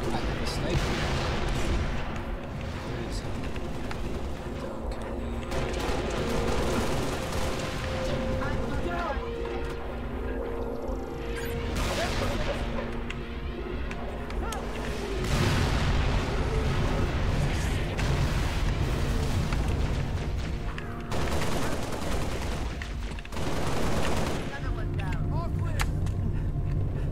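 Halo Reach campaign combat with rocket launcher explosions and bursts of gunfire, repeated heavy blasts and rattling shots over a long stretch, loud and close, with voices talking intermittently.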